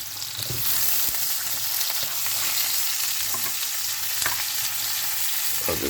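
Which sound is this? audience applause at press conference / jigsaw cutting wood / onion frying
onion frying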